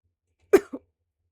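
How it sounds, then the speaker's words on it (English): A single sharp cough followed by a shorter second cough, close and clear against silence. "someone coughs."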